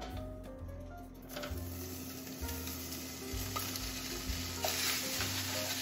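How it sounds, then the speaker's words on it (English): A steady crackling sizzle of egg-substitute scramble frying in oil in a pan, close and continuous, with a low mechanical hum running beneath and no one speaking. "And we just gotta fry it."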